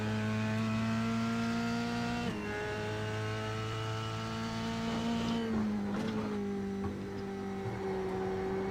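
Formula 3 race car engine at Oulton Park, a loud steady high-pitched drone that drops in pitch with a single downshift as it brakes into a corner, then holds at lower revs.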